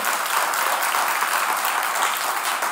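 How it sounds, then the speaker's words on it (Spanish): Church congregation giving a loud, sustained round of applause during a Spanish-language sermon, dense even clapping filling the room without pause and no voices standing out. "déle un aplauso bien fuerte al Señor"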